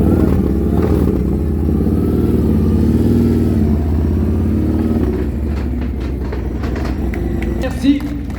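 A Harley-Davidson flat track motorcycle at a Harley Days event in Morzine idles loudly with a rumbling engine note and a brief rev toward the end, while someone speaks French over a PA.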